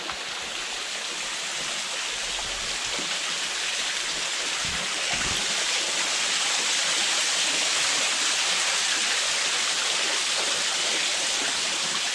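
Steady rushing of a stream, a broad continuous hiss of flowing water that swells slightly louder midway, with no voices.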